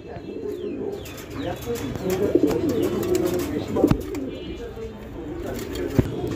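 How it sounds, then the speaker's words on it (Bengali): A pair of black Nun pigeons cooing in low, rolling bursts at close range, with occasional wing flaps and sharp clicks over a steady background. "এটা হচ্ছে নান কবুতরের একটা জোড়া, কালো নান কবুতর।"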